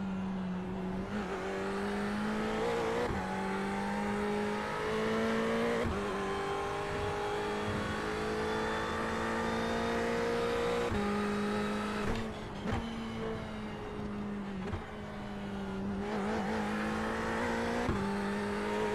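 Ferrari race car in the iRacing simulator at Imola, its engine howling loud and close through repeated upshifts and downshifts, pitch climbing and dropping over a lap section with no talk.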